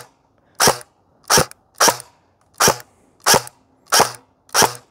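Airsoft replica gun fitted with a Tracer Burst+ T238 unit, struggling as it fires: seven sharp, evenly spaced pops roughly every two-thirds of a second, close and loud over near silence.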